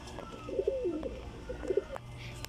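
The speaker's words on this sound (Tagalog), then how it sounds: "ngayon po magpaparanda po tayo ng mga kalapate, si Barak, at mga kalapate nating iba." Pigeons coo softly in a couple of short, throaty bursts, close by and moderately quiet, over faint background noise with no talking.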